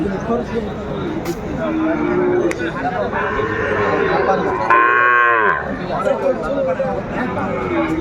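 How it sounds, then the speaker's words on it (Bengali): Cattle, including Sahiwal bull calves, moo loudly at a busy livestock market. A single drawn-out low call rises over constant crowd chatter, and people talk nearby throughout. "আমরা দেখছিলাম যে গরুগুলো কিনছেন মোমেন ভাই"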